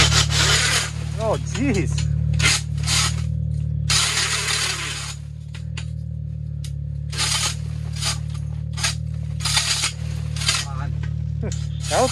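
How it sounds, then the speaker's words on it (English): An old DeWalt drill boring a hole through Lake Erie ice, heard as a steady motor drone with repeated grinding, rasping bursts as the bit cuts, while someone talks briefly nearby. "Chop me a hole. See the old DeWalt."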